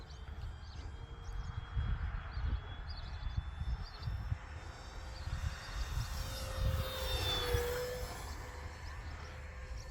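An E-flite P-47 Razorback RC model airplane flies at half throttle, its electric motor whining steadily overhead and swelling slightly as it passes nearer.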